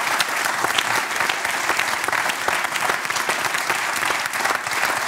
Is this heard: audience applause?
yes